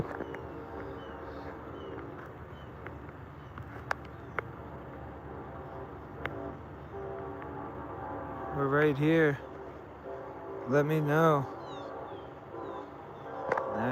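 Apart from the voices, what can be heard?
train passing near cemetery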